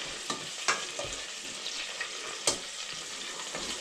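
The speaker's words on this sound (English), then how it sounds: "fry inside here a little bit." Chili and garlic sizzle in oil in a pan, a continuous close crackle with a few clacks and scrapes from stirring, and no voices.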